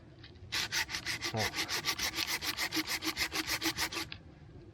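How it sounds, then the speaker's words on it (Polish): Large, thick hand saw cutting through thick wood in about sixteen even back-and-forth strokes, a close, rhythmic rasping that starts abruptly and stops cleanly, with no talking over it. "Zobaczymy tą grubą, dużą piłą."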